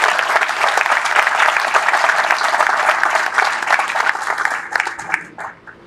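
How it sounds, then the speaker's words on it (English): A crowd applauds at an Army barracks ribbon-cutting ceremony for 3D-printed barracks, dense steady clapping that holds strong for several seconds before thinning into scattered claps and fading. "Please let's give them a round of applause"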